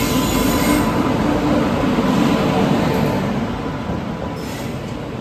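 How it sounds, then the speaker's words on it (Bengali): A train pulls in at platform 4 of a Jharkhand railway station, a steady, loud rolling rumble of wheels and carriages that slowly eases off as it comes to a stop. "4 নম্বর প্ল্যাটফর্মে ওই আমাদের ফার্স্ট অপশনে যে ট্রেন সেটা চলে এসছে।"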